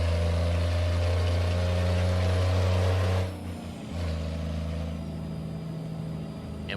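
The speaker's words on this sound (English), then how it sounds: "I love how deep and throaty this particular engine sounds." A deep, throaty old Mack B61 truck engine in American Truck Simulator drones steadily at low pitch, then eases off with a hiss-like shift before settling back into a lower rumble.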